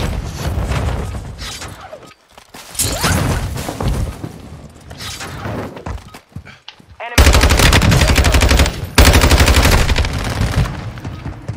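Rapid automatic gunfire in a Call of Duty match, loud bursts and sustained volleys with brief pauses between them, ending in a long continuous stretch of fire.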